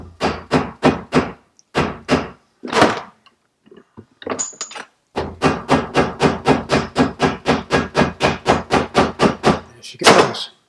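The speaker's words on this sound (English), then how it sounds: "Using a soft hammer." A soft hammer strikes a stuck tap on a Bantam Sport, giving sharp close knocks. They come in short bursts at first, then as a long rapid, even run of blows.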